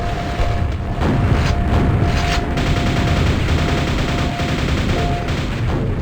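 Dense, continuous gunfire and explosive booms fill the soundtrack of the Quake video game as a grenade launcher fires, loud and unbroken throughout, with no speech over it.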